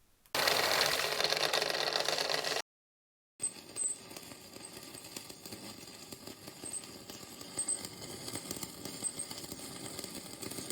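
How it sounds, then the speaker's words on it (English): Shielded metal arc welding with an E6011 electrode makes a loud, harsh crackling buzz. After a short break, a steadier, quieter sputtering arc crackle continues close by. "Strike an arc, and just as the other processes, build a decent-sized puddle."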